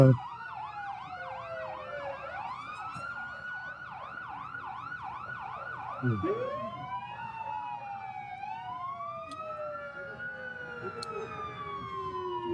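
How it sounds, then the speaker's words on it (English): Emergency vehicle sirens wailing and yelping at a 1993 St. Patrick's Day parade, with several overlapping siren tones that rise, fall and sweep over a steady background of street noise. "What would a parade be without sirens, right, Jack?"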